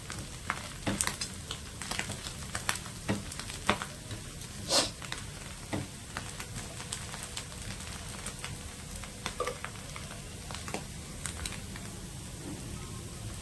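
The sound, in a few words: vada frying on the second side over high flame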